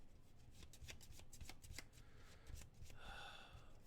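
Cards for the board game Lost Ruins of Arnak being shuffled by hand up close, a quiet run of riffling and rubbing bursts followed by a short soft rustle.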